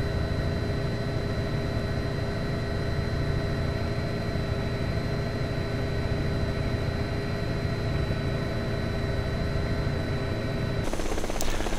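A helicopter in a flight simulator game drones with a constant, loud, even engine and rotor hum, its tone changing abruptly near the end.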